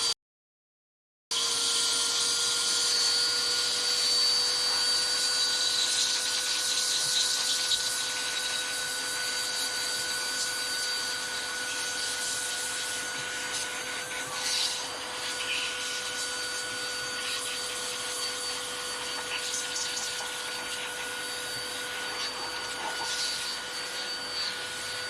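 A cordless air duster blows on high with a loud, steady whirring whine and rushing air, starting abruptly after a brief silence and running continuously.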